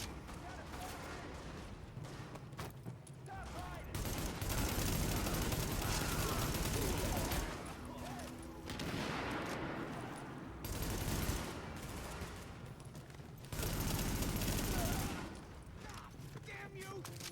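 Bursts of automatic gunfire and heavy shooting from a firefight in the video game The Division, loud and dense in several surges with quieter gaps between, a voice talking over parts of it.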